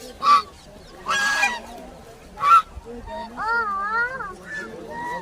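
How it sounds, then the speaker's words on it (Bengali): Loud honking calls from ducks on a pond burst out in a few separate bouts, with a warbling bird call and some murmured voices in between. "তো পুকুরে দেখো হাঁসগুলো"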